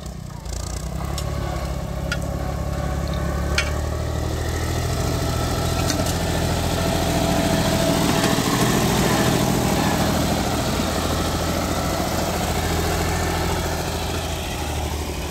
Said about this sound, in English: This is my used tractors, guys. We are plowing a field here.